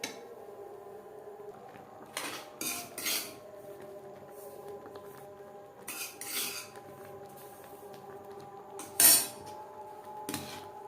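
A spoon stirs a semolina mixture in a pan over a low-to-medium flame, making sparse, quiet metallic clinks and scrapes against the pan with soft gaps between them.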